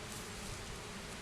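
A honeybee swarm being dropped onto a top bar observation hive gives a steady, faint hiss of buzzing and rustle, even and unbroken with no voices.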